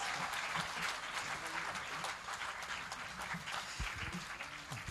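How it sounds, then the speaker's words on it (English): Audience applause fills an auditorium at a teen conclave felicitation ceremony, a steady dense wash of many hands clapping throughout, with a few louder claps near the end. "make sure the whole auditorium resounds with your claps"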